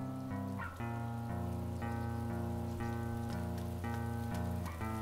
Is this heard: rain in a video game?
yes